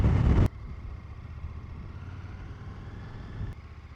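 A KTM 1290 Super Adventure S motorcycle carving through corners, its engine a steady low drone mixed with wind rumble, close and continuous, after a brief louder burst at the start.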